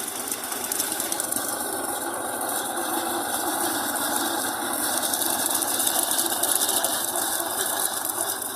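A power tiller engine runs steadily at close range while cutting leftover rice stubble, giving a continuous mechanical drone with a fast rattling pulse throughout and no talk.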